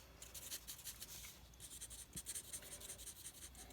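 Pencil scratching across paper in quick, uneven strokes, a soft close-up scribbling rhythm of short rubbing bursts with no talking.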